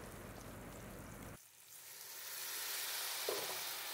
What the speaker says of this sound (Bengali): এই মশলাটা দিয়ে আমি এখন ভালো করে কষিয়ে নেব।